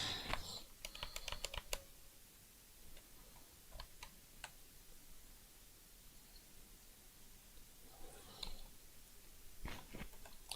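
Typing on a computer keyboard, with clusters of quick, close key clicks at the start, a few scattered taps, and another burst near the end over faint background hiss.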